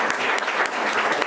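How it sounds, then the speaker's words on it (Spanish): A short burst of group applause rings out in a classroom-style gathering, brisk and fairly loud, with distinct claps popping through the steady patter for just over a second. "Un aplauso para Valeria."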